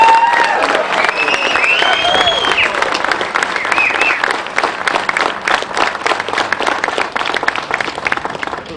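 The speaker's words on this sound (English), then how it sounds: "please join me in a round of applause" An audience claps at a transit center ribbon cutting, a dense, sustained round of applause with a few whoops early on, close and loud, fading slightly toward the end.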